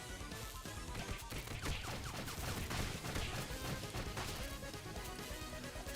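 Missiles strike repeatedly in TMNT: Shredder's Revenge, a dense, steady barrage of loud crashes and gunfire-like bursts running without pause over busy game noise.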